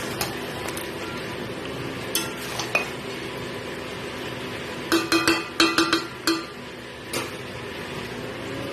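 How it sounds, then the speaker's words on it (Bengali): Mutton curry being stirred and sautéed in a pan over a low flame with fried papaya and potato, giving a soft sizzle under scattered utensil scrapes and clinks that bunch together in a quick run near the middle. "এইবার এর মধ্যে আমি ভেজে রাখা পেঁপে আর আলু দিয়ে সুন্দর করে আরো কষিয়ে নেব"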